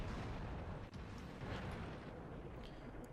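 Tank cannon fire and shell hits in the World of Tanks video game, a dense continuous rumble of booming explosions with sharp impacts near the one-second mark and around two and a half seconds, with no voices.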